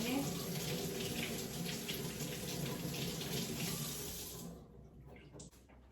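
A Medtronic Guardian Link transmitter is rinsed under a running tap, giving a steady stream of splashing water that cuts off near the end, leaving brief faint clatter.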